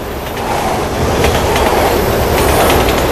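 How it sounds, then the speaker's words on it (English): A train in Resident Evil 6 rumbles past close by, loud and continuous with rhythmic clickety-clack of wheels and faint squeal, no voices over it. "I'm actually kind of surprised the trains are even running"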